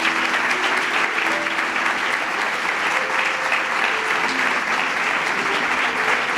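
Steady applause from an audience at a literary award ceremony in Villa de Marchena, continuous and fairly loud for several seconds with no voices over it.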